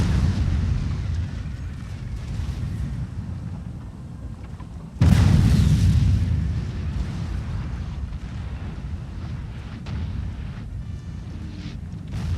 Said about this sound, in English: You can see that grape shot working now.